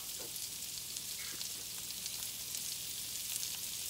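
Onions and peppers sizzle in melted butter in a pan for pork fried rice, producing a steady, bright hiss with a few faint crackles, close and even throughout, with no voices.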